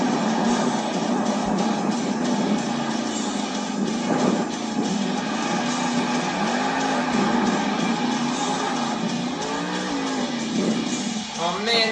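Monster truck Just Get Her Done Too pulling a big wheelie at an arena show, its engine roaring steadily and loudly throughout over constant crowd and announcer noise.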